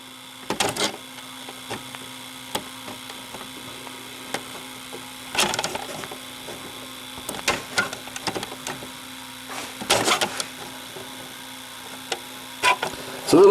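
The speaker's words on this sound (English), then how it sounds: "when I go into reverse search, you can see it pulling the tape" A Mitsubishi HSU-55 VCR pulls tape in reverse search, a steady faint mechanical hum and whir broken by sharp clicks and clattering knocks from the open mechanism at irregular intervals, close by.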